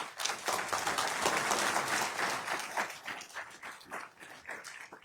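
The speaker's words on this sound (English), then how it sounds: "Let's give a round of applause to our clerk." An audience at a county board of commissioners meeting applauds the county clerk with loud, dense clapping that swells and then thins into scattered claps toward the end.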